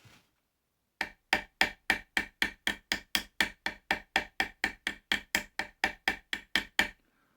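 A hammer peens and domes the head of a pivot pin with about twenty-three quick, evenly spaced metallic taps in a steady rhythm, close and fairly soft, with no talking.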